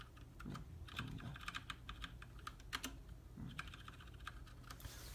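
Keys on a Ducky One mechanical keyboard tapped to control mouse clicks, a quiet, close run of irregular clicky presses with short pauses between clusters.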